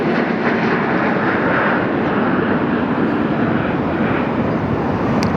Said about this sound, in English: Next to land now is November 57-852. Inbound from Chicago O'Hare as flight 2449 United.